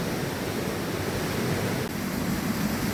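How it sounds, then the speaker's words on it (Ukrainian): The Davyr waterfall in the Lumshory mountains roars as a dense, steady rush of falling water, loud and close, with no voices. "І ось у мене вивалюється зразу водоспад Давир."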